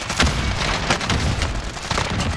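A frag grenade goes off in Call of Duty's Verdansk, a loud, dense burst with crackling debris that rolls on for a couple of seconds in the middle of busy game noise.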